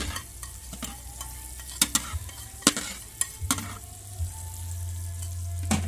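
Chili and onion fry in a pan at a barangay fiesta, making a steady sizzle with sharp clattering stirs and scrapes at irregular intervals and a low hum underneath.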